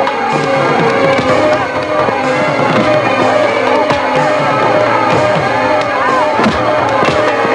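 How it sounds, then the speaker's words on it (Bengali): Police open fire on a marching freedom procession: a loud, dense crowd roar runs throughout, broken by a few sharp bangs. "আগে এগোলেই গুলি কর।"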